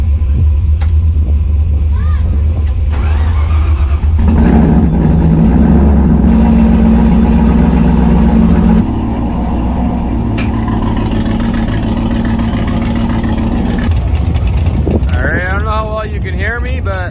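A Fox Body Mustang drag car on nitrous, fitted with 50 horsepower jets, drones and revs steadily at an eighth-mile strip, loud and continuous with the engine tone shifting midway, while people talk over it.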